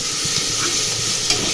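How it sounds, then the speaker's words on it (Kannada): Onion, green chilli and ginger-garlic paste frying in a pan while being stirred, a steady close sizzle and hiss with faint scraping throughout, no voices. "ಈರುಳ್ಳಿ ಮತ್ತು ಹಸಿಮೆಣಸಿನ್ಕಾಯಿ ಸ್ವಲ್ಪ ಚೆನ್ನಾಗಿ ಫ್ರೈ ಮಾಡ್ಕೊಳ್ಳಿ"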